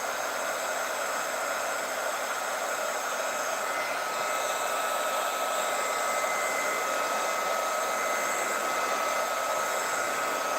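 A heat tool blows continuously and steadily, drying ink on a stamped card; a close, even, loud whooshing hiss holds for the whole stretch with no talk.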